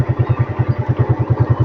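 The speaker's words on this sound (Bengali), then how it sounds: "তো বন্ধুরা, আমি স্টার্ট করে দিয়েছি বাইক।" A motorcycle engine idles steadily right after being started, a close, loud, even putter of rapid regular firing pulses with no speech over it.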